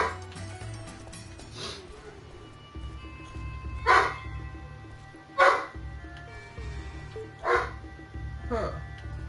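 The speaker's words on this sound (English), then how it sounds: "And he is a big dog." A big dog in the video game Shenmue III barks loudly at a steady pace, about four or five sharp woofs spaced evenly over a low hum of game music.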